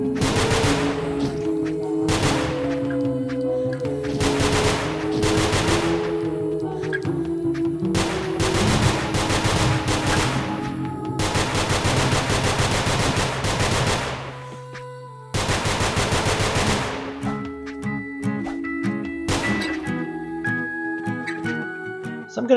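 Gunfire in the video game Nongunz rattles in loud, rapid bursts that go almost nonstop, broken by short pauses, over a dense layer of game sound.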